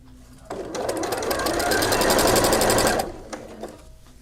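A sewing machine stitches polar fleece laid over jersey knit for a double-layer tuque, running as a close, steady mechanical whir for about two and a half seconds before stopping, followed by a few small clicks.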